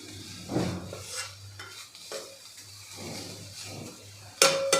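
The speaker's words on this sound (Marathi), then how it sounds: "भाजी आपल्याला पुन्हा मिक्स करून घ्यायची आहे" Bitter gourd bhaji being stirred with coriander in a pan, with a spoon scraping and clinking against the metal in irregular strokes over a soft sizzle, close and moderately loud, ending in a sharper clatter.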